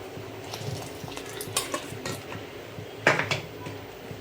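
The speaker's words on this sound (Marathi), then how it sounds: "आणि आता यामध्येच मला पाणी टाकायचं आहे आणि हे व्यवस्थित असं मिक्स करून घेते" A ground spice paste is stirred into water in a pot for a traditional Maharashtrian shengole kalvan curry, giving soft scraping and sloshing with scattered clinks and a sharper knock against the pot, close by, with no talking.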